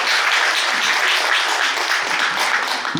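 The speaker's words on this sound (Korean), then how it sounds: "박수 한번 부탁드립니다." Audience at an Incheon art association branch-president candidate debate breaks into steady, dense applause, a continuous wash of many hands clapping at close-to-moderate distance with no talk over it.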